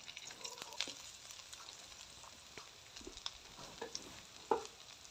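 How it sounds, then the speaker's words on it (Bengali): Onions fry in a pan with cardamom, cloves, cinnamon and dried red chillies, giving a faint, steady sizzle with a few soft stirring clicks and taps. "পেঁয়াজটা একটু ভাজা ভাজা করে নিতে হবে।"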